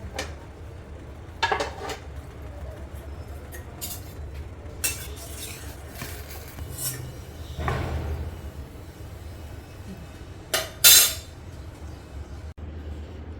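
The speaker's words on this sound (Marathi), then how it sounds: "आता गॅस बंद करूया बटाटे काढून घेऊया" Fried potato slices are lifted out of a pan with utensils in a home kitchen, giving scattered metallic scrapes and clinks with quiet pauses between them.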